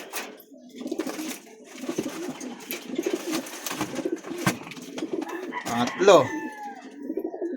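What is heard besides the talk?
Taiwan imported pigeons cooing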